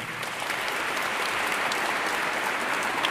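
An audience at a Romanian concert event applauds in a dense, even burst of clapping that holds steady throughout without voices over it.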